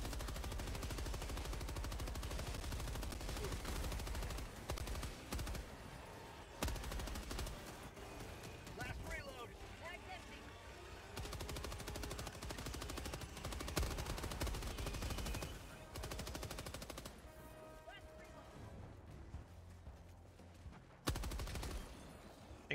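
Sustained automatic gunfire and bursts of shooting in the online co-op shooter Helldivers 2, dense and loud throughout with brief gaps, mixed with game effects and occasional speech.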